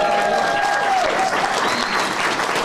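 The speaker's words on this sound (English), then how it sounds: "That is worth a clap." Audience applause at a ribbon-cutting ceremony for a healthy lifestyle hub, steady and dense clapping throughout, with a few faint voices and whistles mixed into the crowd.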